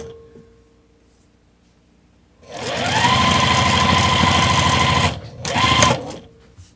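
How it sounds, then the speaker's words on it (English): A sewing machine runs a quarter-inch seam on quilt patchwork for about two and a half seconds in a steady fast whir, stops briefly, then adds one short backstitch burst, after a quiet start. "I'm just going to sew down a 1/4 inch all the way down"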